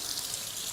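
A kitchen tap runs water for mixing biscuit dough, giving a brief, steady hiss of flowing water at close range with no voices.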